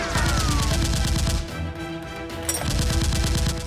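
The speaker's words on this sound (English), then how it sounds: "Seeing his comrade dead, the other criminal fires wildly at Ben." Rapid gunfire in a staged Nerf gun fight between criminals and a masked hero, with fast, loud bursts of repeated shots, a brief lull in the middle, then another burst of firing.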